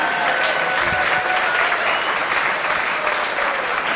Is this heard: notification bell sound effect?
no